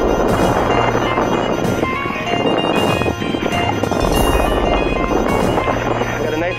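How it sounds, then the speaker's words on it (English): Strong wind buffets a tiny boat at sea amid whitecaps, a steady loud roar of gusts and rushing air hitting the microphone, with water washing beneath it. "Got a nice cross breeze coming right sideways at me, as well as from behind me."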